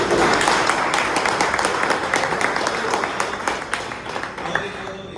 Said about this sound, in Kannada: ನಿಜವಾಗ್ಲೂ ಅವ್ರಿಗೆ ಒಂದು ಜೋರಾಗಿ ಚಪ್ಪಾಳೆ ಹೋಗಿ.